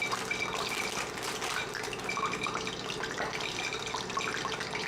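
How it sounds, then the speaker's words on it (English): Chocolate donut mixture is poured into a microwave-safe bowl, giving a steady, continuous liquid pouring wash that runs unbroken for several seconds at close range, with no talking. "So let's pour this into a microwave safe bowl."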